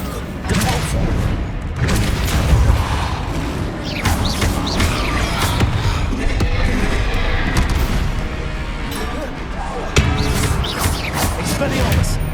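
Bombarda and Depulso spells blast during combat in Hogwarts Legacy, producing repeated loud booms and crashing impacts over a dense, continuous battle din, with no talking.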